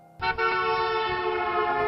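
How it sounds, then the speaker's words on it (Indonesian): A car horn sounds as a single, loud and steady honk lasting nearly two seconds, rich in tone and heard alone without any talking. "terdengar suara klakson di telinga kami."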